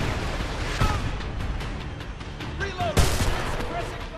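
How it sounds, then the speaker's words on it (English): Heavy gunfire erupts in the shooter game Homefront, dense and constant, with a couple of sharper close blasts standing out amid the continuous crackle of weapons. "Taking heavy fire!"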